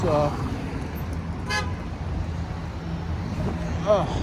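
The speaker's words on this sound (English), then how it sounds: "It's been red for a while and you're honking." A car horn toots once briefly from a vehicle waiting at a red light, heard amid steady road traffic noise with a person talking over it.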